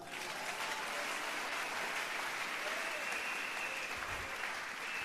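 Church congregation applauding steadily throughout, a dense, continuous wash of clapping that holds at an even level from start to finish with no speech on top.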